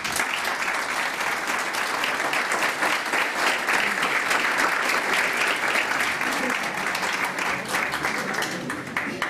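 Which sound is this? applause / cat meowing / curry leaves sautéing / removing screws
applause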